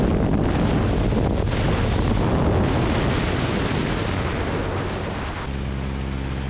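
Strong wind roars steadily over the wing of a small aerobatic airplane flying at about 2,000 feet, a loud, dense rush that stays constant throughout, with a low engine drone emerging near the end.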